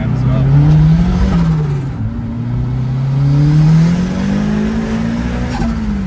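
Turbocharged 4AGE Toyota Celica accelerating during a ride along, a loud in-car engine drone rising and falling in pitch through gear changes, steady and close throughout.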